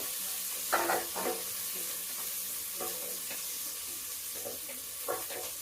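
Sliced onion sautés in a hot pan in a home kitchen, giving a steady soft sizzle. A few brief stirring scrapes and clinks rise above it now and then.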